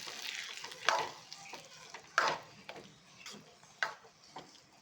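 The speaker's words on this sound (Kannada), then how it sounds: "ದ್ರಾಕ್ಷಿ ಗೋಡಂಬಿ ಎಲ್ಲ ಇದಕ್ಕೆ ಹಾಕೊಂಡ್ಬಿಡ್ತೀನಿ ಹಾಕ್ಬಿಟ್ಟು ಮಿಕ್ಸ್ ಮಾಡ್ಕೊಂಡ್ಬಿಡ್ತೀನಿ" Raisins and cashews stirred into sweet pongal in a pot, with a few distinct scraping strokes of the spoon over a soft background, fairly faint overall.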